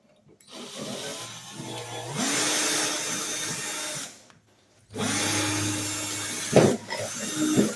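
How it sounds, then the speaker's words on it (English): A power drill whirs in two sustained bursts with a short pause between, its motor pitch rising as it spins up, close and fairly loud, while re-drilling a hole to clean it up. "I'm going to drill that just a hair more."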